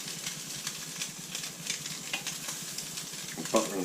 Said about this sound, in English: I'm going to spoon some of the buttery mixture onto it